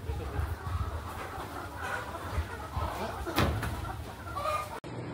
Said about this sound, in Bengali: এখন 400 মুরগি রেডি আছে, 2 মাস পরে ডিম দেওয়া শুরু করবে।